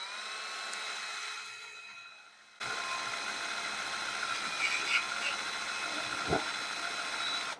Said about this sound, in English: we're going to do that by drilling some holes somewhere